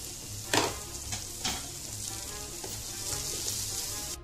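Chopped onion and ginger fry in hot oil while being stirred, a steady close sizzle broken by a few louder scraping stir strokes, with no talking.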